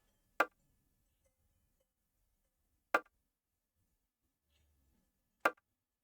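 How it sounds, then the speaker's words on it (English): A sampled bongo in FL Studio is struck three times at even intervals of about two and a half seconds, each a short, quiet, clicky tap with near silence between. "this is my bongo right here."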